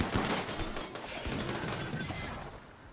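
Dense, continuous gunfire and crashing impacts during a RimWorld fight against a mech cluster, loud and sustained with no pauses, fading slightly toward the end.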